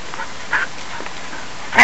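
A dog gives short whimpers and yips that start faint, then end with one louder, closer yip.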